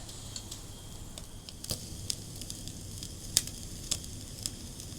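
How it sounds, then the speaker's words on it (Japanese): Eel bones and head roasting over a fire, close by, give a soft continuous sizzle dotted with sharp crackles and pops. The sound stays faint and even throughout, with no voices. "ではタレを火にかけつつうなぎの骨を炙っていきます。"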